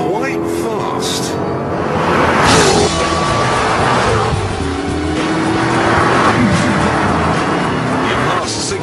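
A Jaguar XKR sports car accelerates hard, its engine roaring loudly and rising in pitch through gear changes, with a close, sustained drone and someone talking over it.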